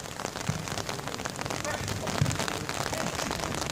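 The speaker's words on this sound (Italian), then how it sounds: "occhio alla pioggia che ormai è diventata pesante" Heavy rain pours steadily over an outdoor sports pitch during a match, a dense, even hiss with scattered louder drops, continuous throughout.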